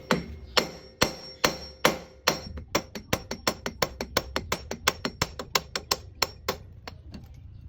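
Hammer blows on an e-bike brake drum being knocked loose for removal, a long run of sharp metallic strikes that start spaced apart and speed up into a quick steady rhythm, close and loud with no talking.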